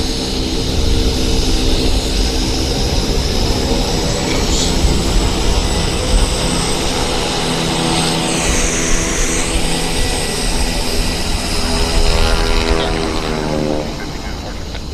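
A heavy jet airliner departs at Vancouver Airport with a loud, sustained engine roar that swells and sweeps in pitch as it passes, while muffled radio voice chatter runs underneath.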